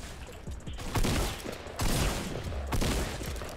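A Desert Eagle pistol fires in Fortnite, with a few heavy gunshot bursts about a second apart over a busy game background, and no speech.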